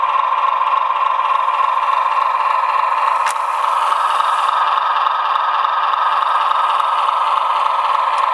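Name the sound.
LIRR C420 model locomotive DCC sound decoder engine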